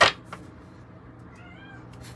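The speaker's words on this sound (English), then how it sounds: "And now a meowing cat." After a sharp click, a house cat gives a short, faint meow a little way off in a quiet indoor room.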